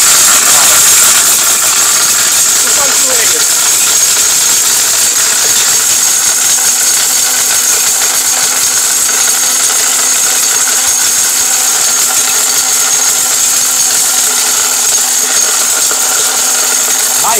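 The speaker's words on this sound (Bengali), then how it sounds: "ভাই তুফান ব্লেন্ডার, এটা তুফান, একদম ঘূর্ণিঝড় চলতেছে ভিতরে" A high-power Tufan kitchen blender runs at full speed, giving a loud, steady whirring roar with a bright whine and slight rattle, unbroken throughout.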